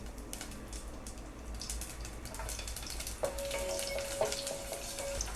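Steady sizzling of garlic frying in hot oil, a constant crackling hiss with a few light clinks of a utensil near the end.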